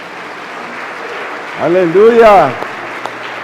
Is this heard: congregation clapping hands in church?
yes